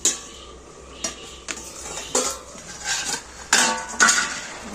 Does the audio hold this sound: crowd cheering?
no